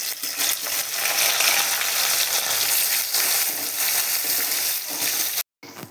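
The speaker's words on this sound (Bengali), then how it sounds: "পেঁয়াজ দিয়ে দেব" Onions frying in hot oil with bay leaf, making a dense, continuous close sizzle with a brief break near the end.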